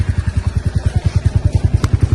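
A motorcycle carrying luggage on the back, its engine thumping in a close, steady rapid rhythm of exhaust pulses throughout the short stretch, with no voices.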